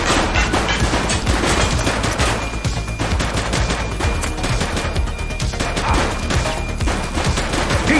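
Rapid gunfire bursts crackle during a police shootout in The Precinct video game, dense overlapping shots filling the scene loudly and continuously.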